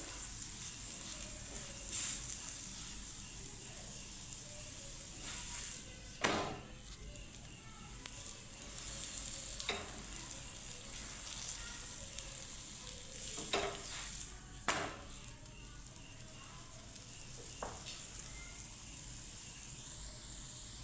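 Raw onion snack patties sizzle steadily in hot oil in a pan, a soft continuous frying hiss with a few sharper scraping and pressing sounds from a spatula.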